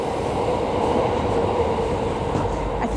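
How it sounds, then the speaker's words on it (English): A train rumbles past as heard through building ventilation in Japan, a steady, dense low roar filling the whole stretch without a break, muffled and close. "That was the sound of a train going by in the vents."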